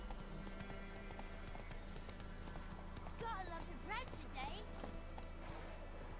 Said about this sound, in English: I just ran into a lady with my horse.